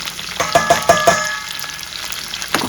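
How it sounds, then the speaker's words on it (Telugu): Capsicum and other cut vegetables frying lightly in a pan for Schezwan fried rice, a steady sizzle broken by several sharp clinks and scrapes of a spatula early on, close and fairly loud. "ఎక్కువ ఏం వేయించకూడదు స్లైట్గా వేయించాలా"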